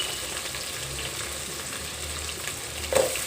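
Ingredients for biryani fry and sizzle steadily in a pan at a food stall, with stirring scrapes throughout and a brief louder clatter near the end; no talking.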